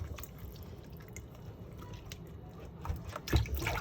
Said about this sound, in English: And we're going to wash this again with lime.